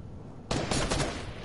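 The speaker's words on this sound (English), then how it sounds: "Phil, who the fuck's shooting?" Video game gunfire erupts midway, a loud close burst of rapid shots lasting about a second after a quiet start.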